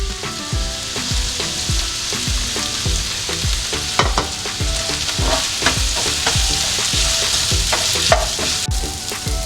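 Sliced onion fries in a hot pan with a continuous loud sizzle, broken by a quick, regular rhythm of stirring scrapes and knocks from a spoon, with no talking.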